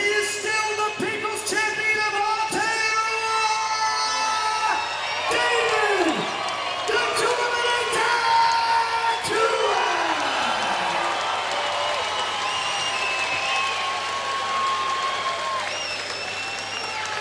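A boxing crowd claps, whoops and yells after David Tua's victory over Friday Ahunanya, a loud sustained roar of applause with shouts and whistles rising and easing, talk heard over the noise.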